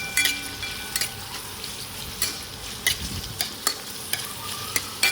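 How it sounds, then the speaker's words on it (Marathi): Onion roasting in oil in a kadhai sizzles steadily, punctuated by repeated scrapes and clicks of a spatula stirring the pan, close by with no talk. "आता आपण कांदा भाजून घेऊया"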